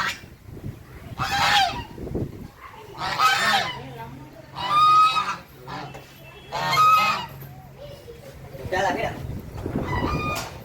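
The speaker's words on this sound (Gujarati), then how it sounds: "જો અહીંયા બતકે છે" Ducks at a village-style farm in Surat give loud, honking quacks in repeated bursts a second or two apart, fairly close, with a person talking in between.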